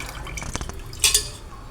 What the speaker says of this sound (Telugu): బౌల్లో వేసుకొని వాటర్ పోసుకొని కడుక్కోవాలి